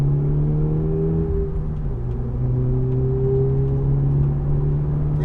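A BMW M4 on a race track straight under full throttle, its engine droning loud and close in a steady, slowly rising tone with a brief dip around a gear change.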